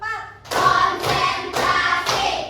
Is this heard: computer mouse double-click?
no